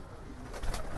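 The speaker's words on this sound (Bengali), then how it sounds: "এইটা এই যে ব্লু বেস কবুতর" Blue-bar pigeons coo softly in a loft of highflyer and racer birds, a low murmuring burble over steady background hiss for about a second.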